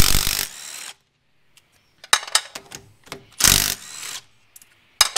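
Bolts on the quick change differential of a wingless sprint car are undone with a rattle gun, in short loud bursts of impact tool chatter separated by pauses and clinks of metal.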